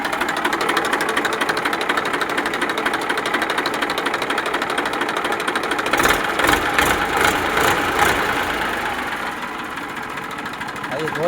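A Massey Ferguson 241 double-clutch tractor engine idles with a loud, steady, rapid diesel chugging that swells briefly and then eases slightly, while people talk nearby.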